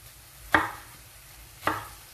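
Two separate knife chops on onion, one near the start and one later, each a short crisp thud on a cutting board in a quiet home kitchen.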